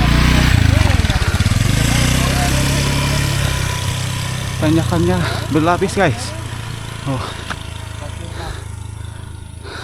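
A motorcycle engine roars close by on a mountain-foot route, then fades into the distance while a person speaks briefly over it.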